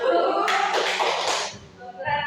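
A classroom concentration clapping chant, tepuk konsentrasi, with a short burst of several quick hand claps in the middle of the chant and a voice speaking briefly before and after.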